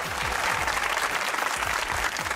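Studio audience on a comedy show applauds steadily, a dense wash of clapping that stays loud and even throughout the short stretch with no voices above it.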